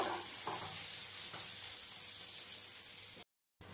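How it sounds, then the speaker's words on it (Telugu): Onions fry in a pan over a medium-low flame, giving a steady, gentle sizzle with a few faint stirring scrapes, close and quiet, cut by a short dropout near the end. "ఆనియన్స్ ఒకవేళ తొందరగా వేగాలి అని అనుకుంటే కొంచెం సాల్ట్ వేసేయండి, వేగుతుంది ఆనియన్"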